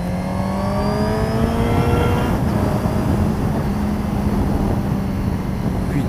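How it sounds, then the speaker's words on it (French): A race car drives onto the Le Vigeant circuit and attacks a double right-hander in second gear. The engine drones loudly and steadily from inside the cabin, with its pitch rising and shifting as it accelerates. "on entre sur le circuit et on attaque un petit double droit qui se négocie en seconde."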